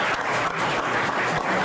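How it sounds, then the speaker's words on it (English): Sustained crowd applause at a local sports-themed event, dense and steady clapping filling the whole moment with no break. "Lou, get back on the chair and keep clapping."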